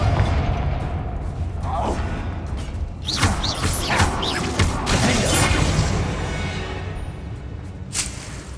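A Confringo blasting spell bursts in the video game Hogwarts Legacy, giving a run of loud explosive booms and whooshes over a steady game background.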